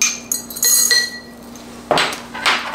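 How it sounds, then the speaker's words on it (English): Black peppercorns spooned into a glass canning jar for pickled asparagus, heard as a few bright clinks and rattling taps against glass, two clusters of sharp clatter separated by a quieter gap. "I'm gonna do 1 teaspoon of peppercorns"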